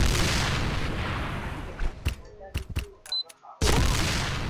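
Rapid gunshots ring out in a first-person shooter game, a burst of sharp reports between louder stretches of game noise, close and punchy.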